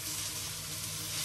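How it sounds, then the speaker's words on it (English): Food stir-frying in a hot pan gives a steady hiss of sizzling, continuous and close, with no talk. "We're over here still stir frying."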